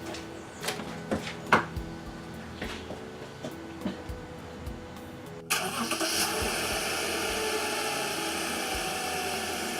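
A car engine cranks and catches on power from an Arteck 2000A portable jump starter with the battery removed, then settles into a steady idle. Clicks and small knocks come first, and no one speaks.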